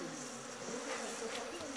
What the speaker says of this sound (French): Le bourdonnement permanent et les attaques incessantes rendent dingue tous les chauffeurs.